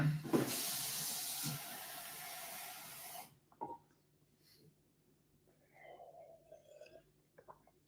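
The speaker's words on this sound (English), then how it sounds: "Let's get some water, Chrissy, mate." Water gushes loudly from a tap for about three seconds, likely filling a bottle or glass, then cuts off, leaving a quiet room with a faint hum and a few small clinks.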